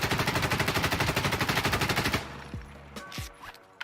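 An M4A1 rifle in Insurgency: Sandstorm fires one loud, rapid automatic burst of about two seconds, followed by a ringing echo and a few light metallic clatters.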